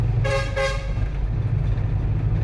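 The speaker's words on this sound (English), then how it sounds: "The driver honks every 30 seconds to say hello to people on the street." A bus horn on Malapascua gives two short, loud toots close together over a steady low engine rumble.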